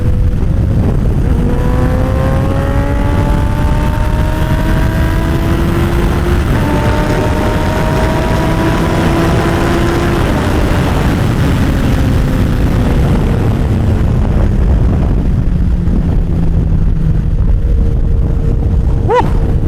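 A motorcycle being ridden, its engine droning loud and steady throughout with rising and falling revs as it accelerates and shifts, the pitch climbing and easing off again toward the end.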